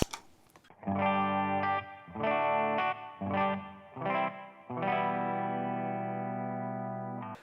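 Distorted electric guitar chords through an EQ pedal ring out in several short bursts, then one long sustained chord, loud and thick with effects.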